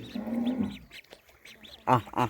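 Nearby ducks give a few raspy quacks, then two louder bursts of calling near the end.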